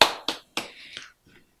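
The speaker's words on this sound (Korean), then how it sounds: "박수." A few sharp hand claps ring out in a lecture setting, three or four quick strikes with short decays. They are close, fairly quiet and fade within about a second.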